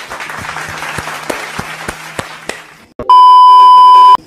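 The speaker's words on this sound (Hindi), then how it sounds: "तालियां हो जाए।" Applause from an audience at an awards show, a loose scatter of claps for about three seconds, then cut off by a loud, steady electronic beep.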